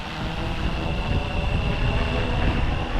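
A Fly Wing RC Airwolf model helicopter in flight, giving off a steady, dense whirring rotor and motor noise with a faint high whine, continuous and fairly close for the whole stretch, with no voices.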